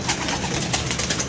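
Captured pigeons held for sale coo in a dense, close flock, their soft calls running together under steady broadband noise without pause.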